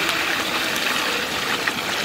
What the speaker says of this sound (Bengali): এখন আমরা জল দিয়ে ঝোল করে নেব।